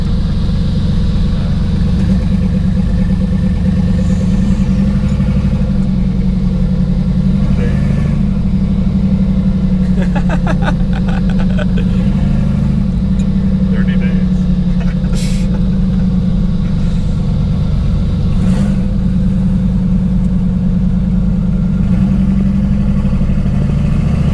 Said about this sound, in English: it's a little V8, right?